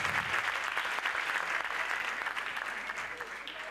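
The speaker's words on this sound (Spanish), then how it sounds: "Fuerte aplauso para ella." A crowd applauds steadily and warmly during a carnival proclamation in San Roque, dense clapping filling the space from a moderate distance with voices mixed in.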